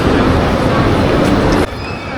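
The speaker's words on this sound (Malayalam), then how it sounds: "ഇതാണ് ടോയ് ട്രെയിൻ." A toy train runs through a Christmas display at Lulu Mall, making a continuous loud rumbling clatter that blends with the busy mall crowd and voices. The sound drops off sharply just before the end.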